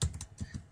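Computer keyboard keys tapped in a quick, soft run of four or five clicks, close and fairly quiet, with no talking.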